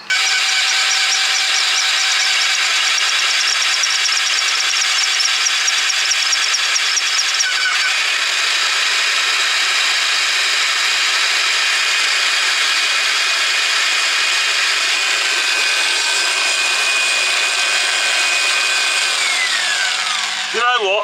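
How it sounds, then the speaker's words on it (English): A loud, steady high-pitched power drill whine drones on while working on a tractor, with a brief stutter partway through and a falling pitch as it winds down at the end. "Did you hear the drill just stutter a bit then?"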